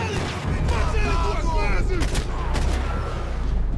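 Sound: gunfire in Max Payne 3 video game

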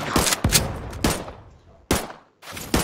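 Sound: explosion in Roblox Tower Defense Simulator video game

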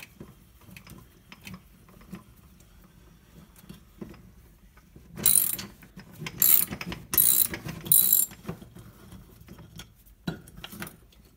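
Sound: coach screw turned into corroded Maglite battery

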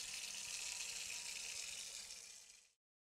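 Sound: pouring water into kettle from bucket, video game WW2: Bunker Simulator

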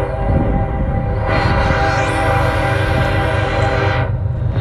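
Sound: loud train passing

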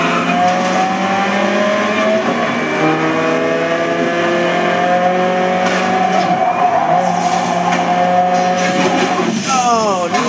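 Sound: Racing car in the video game Blur

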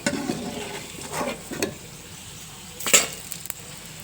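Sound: food frying and being stirred in a pan

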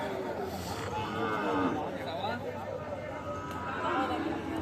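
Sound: cattle mooing at a livestock market

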